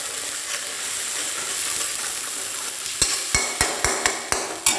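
Ground onion paste frying in a pan for a rohu fish curry, with a steady close sizzle and hiss, then a run of sharp regular taps of a spoon or spatula against the pan near the end.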